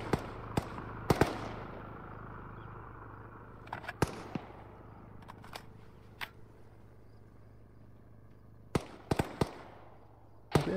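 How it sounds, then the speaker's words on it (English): Incoming gunfire during a military training exercise with a Marine Raider battalion, sharp distant cracks arriving singly and in short bursts of two or three, scattered across a quiet outdoor background. "Fire coming in from the southwest."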